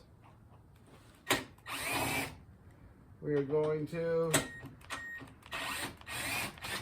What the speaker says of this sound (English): if my drill doesn't crap out on me, remove these brackets right here